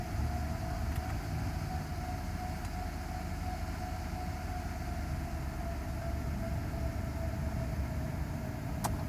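A Mercedes SL500 with a mismatched throttle control module idles steadily, a constant low engine drone with a faint tonal whine above it, close and unbroken, with no talking.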